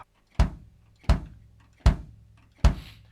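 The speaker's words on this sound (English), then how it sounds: "That's the sound of the kick from my module." An electronic drum module's kick pad triggers an acoustic-kit kick sound, four single deep thumps spaced evenly about three-quarters of a second apart, each decaying quickly into silence, close and clean with no voices.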